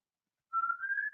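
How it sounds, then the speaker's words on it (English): A single person whistles a short rising tune indoors, one sustained note sliding upward and holding, clear and close with no talking over it. "Now I need a whistle"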